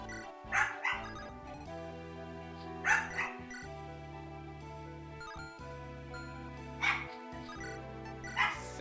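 A female dog in kennel training barks and yips in short bursts, four clusters spread across the stretch, somewhat distant under steady background game music.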